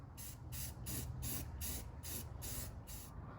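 Self-etching primer is sprayed from an aerosol can onto bare metal rally wheels in a quick series of about eight short, close hissing bursts at a steady rhythm over a low background hum.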